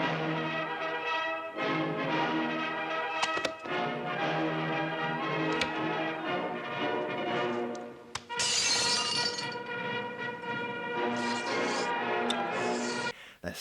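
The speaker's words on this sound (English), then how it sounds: "They're smashing glasses." Drinking glasses smashed at a chaotic table feast amid a food fight, with repeated sharp shattering crashes and clinks over a busy, dense background of music and commotion, louder bursts of breaking glass near the end.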